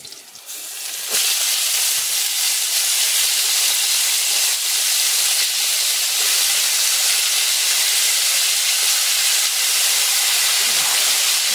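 Takway taro stalks hit a hot pan with a sudden surge into a loud, sustained sizzling hiss of steam, crackling steadily and close up for the rest of the clip.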